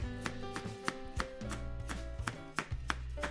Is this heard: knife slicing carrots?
yes